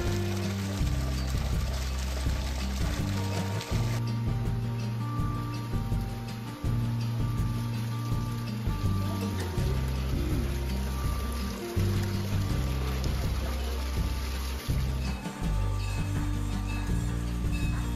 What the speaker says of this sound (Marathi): उन्हाळ्यात सुद्धा या झऱ्याचं पाणी कमी वेगानं का होईना पण वाहत असतं.